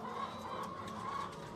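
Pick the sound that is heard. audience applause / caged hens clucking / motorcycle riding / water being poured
caged hens clucking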